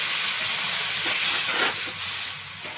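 Water poured into a pan of frying vegetables with tomato and green chilli throws up a loud, close, continuous steaming hiss and sizzle that swells briefly midway.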